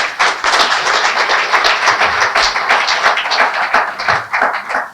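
An audience applauds hard for a 23-year-old young man at a book and reading event, a dense, steady wash of many clapping hands that stays loud throughout with no voices on top.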